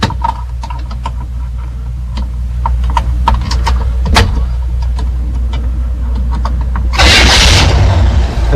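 A General Motors car engine started after its ignition is bypassed with needle-nose pliers, with mechanical clicks and a low steady engine rumble, then a loud burst near the end.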